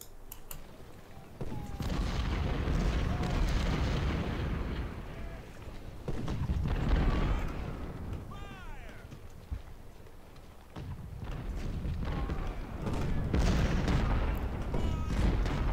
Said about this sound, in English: switch fire back to the Wilcox. You should be in shell range there